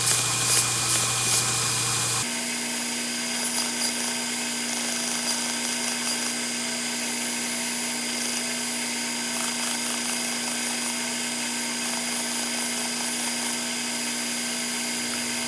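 A power tool runs steadily while a wooden knife handle is polished up to 400 grit, a sustained whining drone with an abrupt pitch change early on, then continuous grinding hum close up, no talk.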